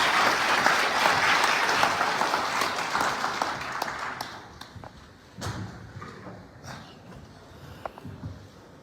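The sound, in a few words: audience applause welcoming a speaker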